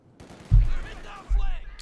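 Two heavy low bursts of .50 cal machine gun fire in Company of Heroes 2, each a dense rumbling thud with a second rolling burst soon after and faint battle noise around, no talk.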